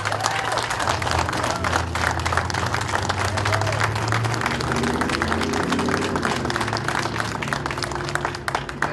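Crowd applause at a civic announcement of Swift Current hosting the 2019 Western Canada Summer Games, sustained clapping from many people with a low hum and some voices mixed beneath it.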